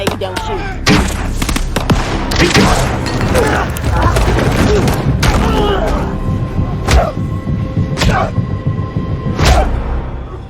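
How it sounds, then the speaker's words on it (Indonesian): Loud, chaotic gunfire in a film with repeated sharp shots and booms over a dense rumbling background, with voices shouting amid the shooting. "Suasana menjadi kacau disusul dengan tembakan demi tembakan."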